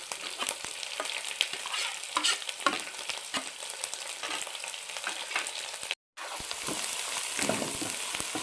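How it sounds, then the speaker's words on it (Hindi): Ginger-garlic paste and green chilli paste with onions sizzle and fry in a pan for a Pakistani beef bone curry, with steady stirring scrapes throughout and a brief drop to silence near the end. "भून लूँगा, इसका कच्चापन ख़त्म हो जाएगा अदरक लहसुन का"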